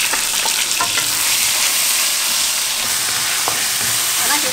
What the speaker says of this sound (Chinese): 把那些香味都炒出来